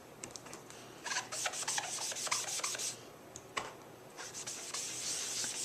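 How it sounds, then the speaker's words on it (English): A sponge dabs and rubs ink onto a card in quick, soft, scratchy strokes that come in short irregular bursts, close and fairly quiet, with no voices. "I'm just going to sponge it."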